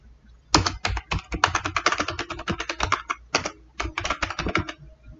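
Fast typing on a computer keyboard while writing program code: dense bursts of crisp close-up key clicks with a brief pause mid-way, and no talk.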